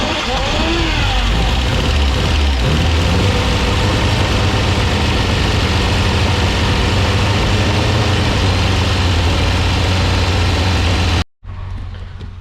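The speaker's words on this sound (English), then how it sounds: "we'll do another start and see if we can see where the oil leaks come from." A Toyota 7K turbo engine starts and runs loud and close, a steady rough idle with low rumble and occasional rises in revs, continuing for about eleven seconds before shutting off abruptly.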